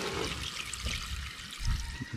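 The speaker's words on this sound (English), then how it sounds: "just pour a little bit of water." Water splashes and trickles steadily as it pours into a cooking pot of rice, a close, continuous gurgling stream with no talking.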